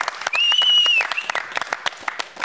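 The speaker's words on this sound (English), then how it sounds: "Round of applause just for you" A crowd applauds during a bike show episode, a brisk burst of clapping with a sustained whistle-like tone near the start, then thinning into scattered claps.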